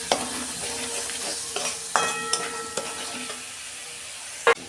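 Onion paste and spices sautéing in a pan for a soybean curry, a soft sizzle under repeated spatula scrapes and stirring knocks, with a sharp clink near the end and no talking.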